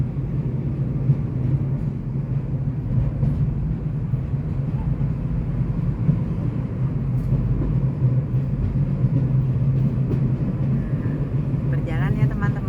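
Lötschberg car shuttle train rolling along the rails near Kandersteg, Switzerland, heard from aboard as a steady low rumble throughout, with a voice talking over it.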